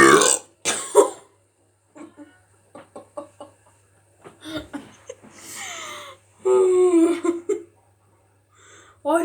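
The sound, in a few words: burping after chugging Dr Pepper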